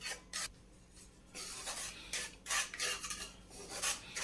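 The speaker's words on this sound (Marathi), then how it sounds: "शिंगाड्याचं पीठ आपल्याला भाजून घ्यायचं आहे" Water chestnut flour dry-roasting in a pan, stirred with a utensil that scrapes and rubs against the metal in uneven, repeated strokes, close and fairly quiet with no talk.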